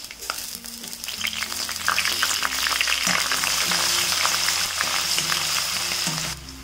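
Ginger, garlic and slit green chilies fry in hot oil for an egg roast, making a dense, close sizzle with light stirring clatter that builds and then holds steady. A faint musical drone sits underneath, and no one speaks.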